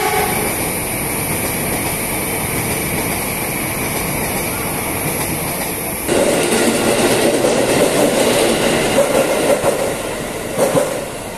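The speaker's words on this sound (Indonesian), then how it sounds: "Itu, wow, ini kereta dengan laju cepat. Kereta bandara ya." A fast airport train rushes past at Dukuh Atas in central Jakarta: a loud, steady roar with rhythmic wheel clatter that swells midway as the cars sweep by close, amid outdoor city background and no speech.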